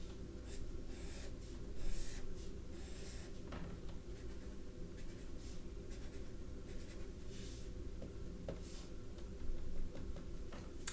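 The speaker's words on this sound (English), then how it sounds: "I'm going to go ahead and just decorate my outfit a little bit and draw some designs and patterns" Pen or pencil drawing designs and patterns on paper, soft scratchy strokes repeating unevenly over several seconds, faint and close with occasional light rubbing.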